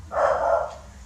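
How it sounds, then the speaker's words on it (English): A single drawn-out dog bark or yelp, mid-pitched and fairly close, lasting most of a second over a low background hum. "Stop barking!"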